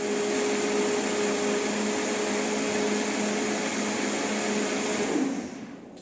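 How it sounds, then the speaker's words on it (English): A Vitamix blender runs steadily on fermented soybeans, a loud, even motor whir with a constant pitch that holds for about five seconds, then winds down and fades near the end. No voices are present. "So we'll blend that up. Now this is a Vitamix."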